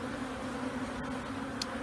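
Honey bees from a swarm being hived hum in a low, constant drone nearby, with a faint tap or two standing out briefly above the steady buzz.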